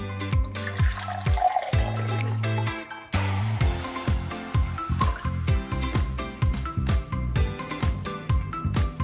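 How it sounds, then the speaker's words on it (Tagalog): Water is poured from one glass into another. It gurgles and trickles in a glassy, pitched flow, broken by short drips and splashes, sounding close and alone. "Ano kaya ang magiging resulta kapag isinalin ko ang tubig mula sa isang baso papunta sa isa pang baso?"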